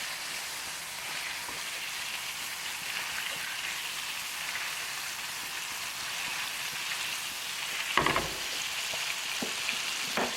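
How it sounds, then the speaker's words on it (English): Steak sizzling in a hot pan while basted with butter and olive oil, a steady close crackling fry with a brief louder spatter and clatter partway through, no talking. "baste the steak"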